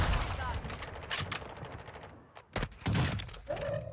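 Gunfire in the Warzone 2.0 video game: several sharp bursts and shots spread over a few seconds, loud and close, with a quieter spell in the middle and game noise underneath.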